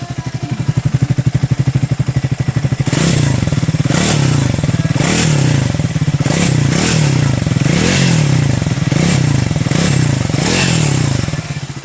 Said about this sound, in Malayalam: നമുക്ക് ഈ വണ്ടിയുടെ എക്സോസ്റ്റ് നോട്ട് കൊണ്ട് കേട്ട് നോക്കാം അല്ലേ.